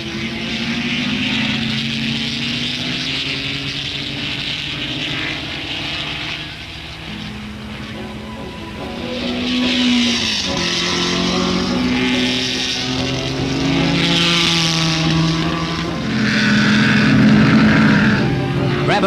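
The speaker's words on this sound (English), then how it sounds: "Brabham is having trouble with his engine, and McLaren tries to narrow the lead." 1960s open-wheel racing cars run on a hot track during a race, one car with a sick, troubled engine; a steady loud drone of engines persists throughout, swelling and fading as cars pass, with a higher whining tone rising in the second half.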